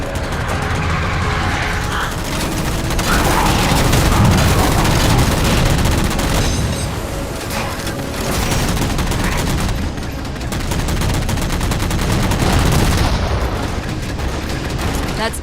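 Gunfire in Halo 4 as jammers are shot down: loud, dense bursts of rapid game weapon fire with booming impacts, continuous across the stretch, with a voice talking over the action at times.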